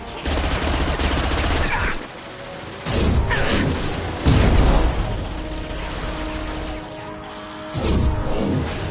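Rifle gunfire in Mass Effect 2, loud bursts of rapid shots in several volleys separated by short pauses, with mechanical clatter and game background tones between them.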